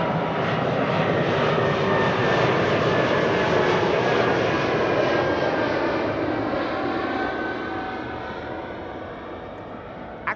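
An Air Baltic airliner in Latvian flag livery departs Schiphol's runway 24, its engines roaring loud and steady throughout, a broad sustained rumble that slowly eases as it climbs away.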